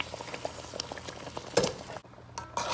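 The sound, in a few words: pork in red salsa simmering after sauce is added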